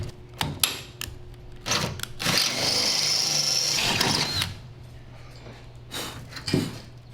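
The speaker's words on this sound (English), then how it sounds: "I'm going to use a 1/4 inch bit and drill through these 3 holes." A power drill with a 1/4 inch bit bores through a hinge bar while a tilt hood kit is installed. It gives a steady whining drill run of about two seconds, with clunks and handling noises before and after.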